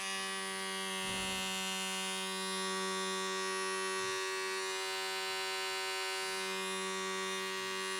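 Laifen P3 Pro or T1 Pro electric shaver running on its own, a steady high-pitched motor whine and hum held close and constant throughout, with a brief rustle of handling near the start.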